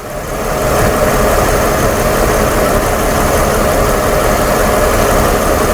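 A 1997 Mercedes-Benz E320 engine idles with a misfire, a steady, loud, close-up rumble holding evenly throughout with no voices.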